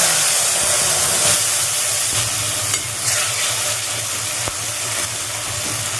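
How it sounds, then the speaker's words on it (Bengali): Nigella seeds sizzle in hot oil as a tempering for fish curry, a steady loud frying hiss with faint stirring scrapes throughout, no voices. "এদিকে অল্প 2টো কালো জিরের ফোড়ন দিচ্ছি"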